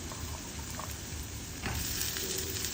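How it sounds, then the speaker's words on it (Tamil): Sliced big onion, grated coconut and spices sauté in oil and ghee for a vegetable kurma, giving a continuous close sizzling hiss that grows slightly louder partway through, with a faint utensil scrape and no speech. "வெங்காயமும் போட்டிருக்கேன் பெரிய வெங்காயம் தான் தேங்காய் துருவி எடுத்ததையும் ஆட் பண்ணியாச்சு கொஞ்சம் எண்ணெயில் நெய்யிலையும் வதக்கலாங்க"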